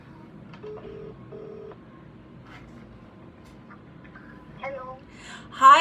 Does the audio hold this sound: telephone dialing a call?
yes